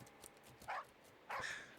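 A video game dog lets out two short barks about a second apart, sounding faint against a steady background hum.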